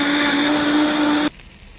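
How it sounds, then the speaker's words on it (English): A high-speed blender whirs loudly and evenly through raw cashews, garlic and cilantro with a steady motor whine, then cuts off abruptly near the end, leaving quiet room tone. "add your raw cashews to a high speed blender"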